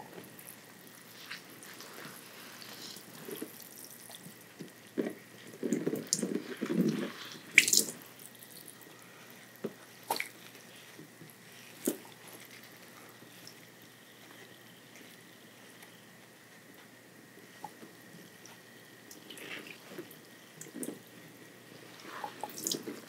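Water from a tap rinsing a person's scalp during a hair wash, a soft steady flow with faint splashes and a louder gush near the middle, quiet and close.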